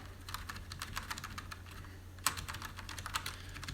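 Continuous typing on a mechanical keyboard, a rapid run of clicky keystrokes with a few keys striking noticeably louder, close and alone without talk.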